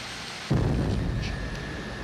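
Twin jet engines of an SR-71 Blackbird spool up after a jump start from two 454 cubic inch Chevy engines, a sudden loud onset settling into a sustained, deafening roar and whine on a tarmac.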